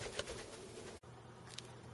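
A pet bird coos softly in a room, with low murmuring calls across the clip and a short break near the middle, heard alone without talk.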